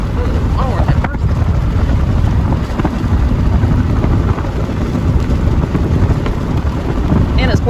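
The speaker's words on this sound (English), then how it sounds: "it's pouring down rain too" Heavy rain and wind pour down over Georgia pecan orchards, a loud, unbroken broadband roar with gusty wind buffeting close to the microphone.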